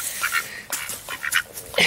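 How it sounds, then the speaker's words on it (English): A small brown duck quacks in a few short, close bursts of nasal calls, with quiet outdoor background between them. "Skeeter the Duck is right down here, that little brown bird"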